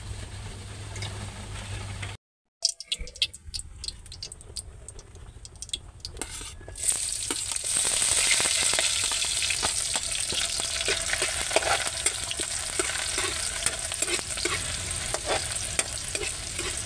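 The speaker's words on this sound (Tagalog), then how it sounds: "Luto na tayo ng alamang." Small alamang shrimp frying and being stirred in a pan, a steady loud sizzle with metal utensil scrapes and clinks, following a brief drop to silence early on.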